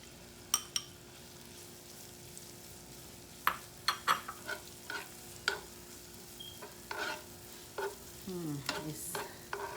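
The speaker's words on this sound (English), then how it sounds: "we will let it cook couple of minutes until garlic get roasted very well with the butter" Crushed garlic sizzles softly in melted butter in a pan for garlic bread, with a steady quiet fry broken by several sharp utensil clinks and stirring scrapes against the pan.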